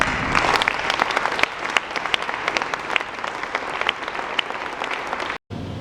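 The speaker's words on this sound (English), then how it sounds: "you can welcome him with applause" An indoor audience applauds to welcome a speaker, dense continuous clapping from many hands at close range, holding steady for several seconds before a brief cut.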